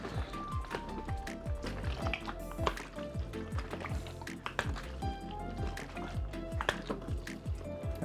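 Black and white film developing tank being agitated by hand, liquid sloshing and rolling inside in repeated gentle surges with small metallic pings, close and continuous.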